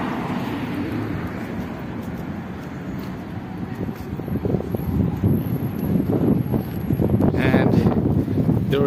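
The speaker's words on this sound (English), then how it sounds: "And there is wind, and when it's so warm and wind, it's really a nice weather today." Wind rushes and buffets outdoors on a warm sunny day in Yekaterinburg, Russia. It grows rougher and louder toward the end, with faint traffic behind it.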